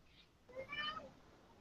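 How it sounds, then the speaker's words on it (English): A cat gives a single short meow, faint and somewhat distant, heard over a quiet background during a phone-style conversation. "Rebecca, I hear your cat giving his 2 cents, her 2 cents there."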